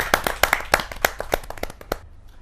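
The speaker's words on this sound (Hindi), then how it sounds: "जोरदार तालियों के साथ रसिक गुप्ता जी का।" A small audience at a Hindi kavi sammelan claps for a poet, a short burst of close, distinct hand claps that quickly thins out and stops.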